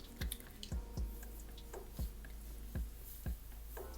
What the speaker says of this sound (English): taking my fingers and combing my hair through like while I'm working the conditioner in